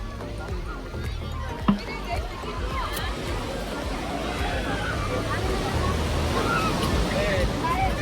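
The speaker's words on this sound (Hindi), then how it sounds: "समुद्र देखे था भाई यहाँ से गोवा वाले बीच में, लेकिन लहरा तेज है" Strong sea surf rolling onto a beach near Goa, a steady broadband wash under wind with people chattering in the background.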